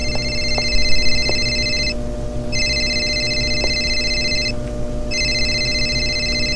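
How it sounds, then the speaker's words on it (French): A telephone rings inside a video game set in a high-rise building, repeating electronic ring bursts of about two seconds separated by short pauses, steady and clear over a constant background hum with faint ticks. "Il y a un téléphone qui sonne."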